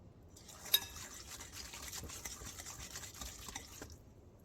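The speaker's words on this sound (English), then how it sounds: "I'm going to add 1 stick of melted unsalted butter. Now I'm going to mix this together." A utensil mixes light brown sugar with melted unsalted butter in a bowl for ube brownies, making soft, wet, close scraping and squishing sounds, quiet and continuous, with one sharp clink near the start.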